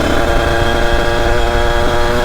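A Derbi Racing moped engine, converted to an 80cc setup, revs hard and buzzes loudly and continuously at close range with a sustained high-pitched two-stroke drone.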